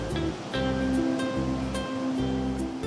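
Ocean surf rolls and washes continuously while surfers ride the waves, with broad hissing water and a low rumble that swells in repeated surges, fairly close and with no talk.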